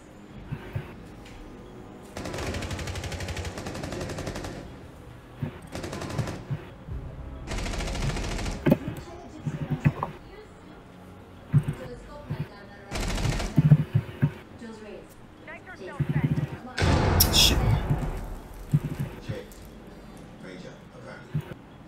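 Rainbow Six Siege gunfire in several bursts of rapid automatic shots separated by quieter stretches, some close and loud, with a voice talking over the action.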